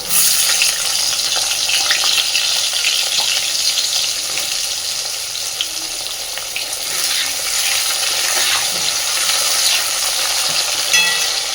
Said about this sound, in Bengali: এইবার ওই একই তেলের মধ্যে আমি অল্প একটু আলু কেটে রেখেছি, আলুটাও ভেজে নেব